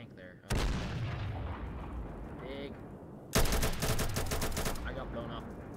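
In a Roblox game, a tank blows up the player with a loud blast that gives way to sustained rumbling, then a second heavy burst of rapid gunfire-like bangs. Brief game sounds are heard between.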